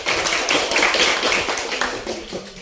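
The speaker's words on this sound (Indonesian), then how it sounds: "tepuk tangan untuk kelompok" Classroom applause for a student group during a teacher-training session at Universitas Musamus, Merauke: a dense, steady patter of many hands clapping throughout, fairly loud and close, with no speech over it.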